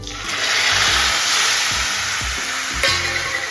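Water goes into vermicelli frying in ghee, setting off a loud, steady sizzle that fills the clip alone, with a few clinks and scrapes of stirring and a brief surge near the end.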